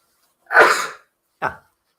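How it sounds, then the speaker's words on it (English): A single sharp sneeze close by, followed a moment later by a short, softer exhale or second burst. "as expected, about to sneeze"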